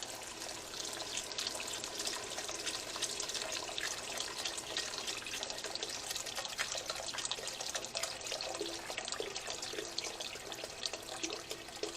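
Stock and beans pour into a pot of sweated aromatics for pasta e fagioli, giving a steady close liquid splashing and trickling that runs without a break, with no talking.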